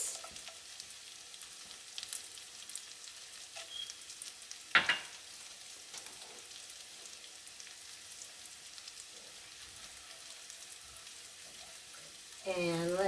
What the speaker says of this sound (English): saute a bit in this butter and onions and garlic